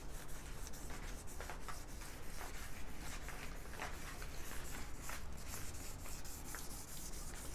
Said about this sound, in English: Some wet sanding.